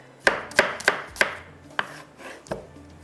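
A knife slices an onion on a board in sharp, close chops, four quick cuts followed by a few slower ones, with no talking.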